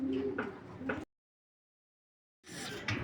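Black racer pigeons cooing at a bird farm offering racing pigeons for sale, a few soft, low coos close by in the first second, then a gap of silence before more cooing and bird sounds resume.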